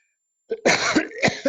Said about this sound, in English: I am coughing, but it's not a dry cough.